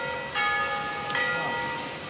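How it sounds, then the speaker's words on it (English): A church bell in Portofino tolls, ringing out in clear struck strokes with lingering resonant overtones, fairly near and without speech. "This bell has been going on for hours."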